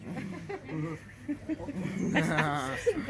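A frightened dog whimpers in thin, high-pitched whines that grow clearer toward the end, over a murmur of nearby human voices.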